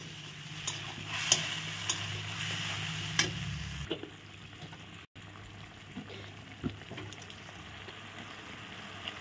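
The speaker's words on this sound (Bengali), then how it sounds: "আলুগুলো আমি দিয়ে দিলাম। একসঙ্গে কষানো হয়ে যাবে।" Potatoes frying with prawn malaikari in a pan give a steady sizzle with scattered stirring clicks, louder at first and then settling into a softer, continuous fry with no talking.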